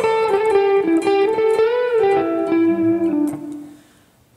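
Blues lick on electric guitar, a flowing run of bent and pulled-off notes played up close, ringing clearly alone before fading out near the end.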